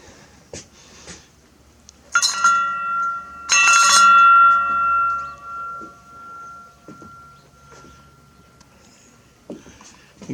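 Two quick strikes on a homemade welded metal triangle wind chime ring out close and loud, their bright tones sustaining and slowly fading into quiet outdoor background.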